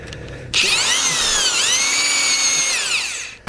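Soil auger drill spinning into the ground during installation of a soil moisture probe, a loud steady motor whine with shifting tones starting abruptly after half a second and running continuously, close by with no talk.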